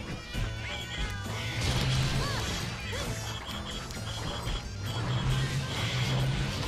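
A cat companion cheers in the Monster Hunter X game amid busy battle sounds, with repeated meow-like calls and crashing hits mixed with game music throughout.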